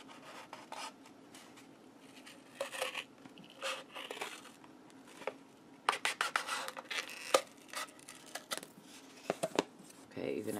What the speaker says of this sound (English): Okay, I need to get used to these scissors.